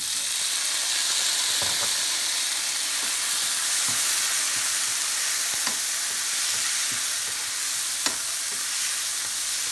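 Tomatoes and onions sautéing in a pan for a mutton curry, giving a loud, steady frying hiss with occasional light stirring taps and scrapes, close up and without talk.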